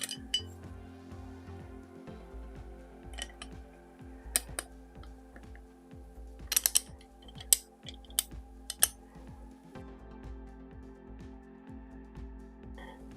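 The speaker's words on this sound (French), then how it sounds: "Et on vient visser avec des vis DM ici et ici." Small screws driven into parts of a Mountain 241-P-16 model locomotive kit: scattered light metallic clicks and ticks over a low background hum, close and fairly quiet.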